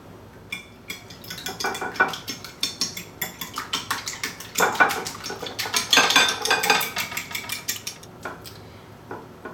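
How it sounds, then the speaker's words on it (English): A fork whisks three large eggs in a bowl, clinking rhythmically against the sides in quick repeated strokes that speed up and grow louder midway, close and alone without talking. "I have 3 large eggs for this egg wash, and that's all we're going to need. I just need to beat these."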